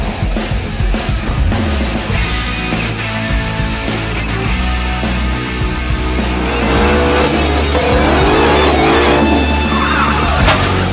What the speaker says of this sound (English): '20 Ford Mustang Shelby GT500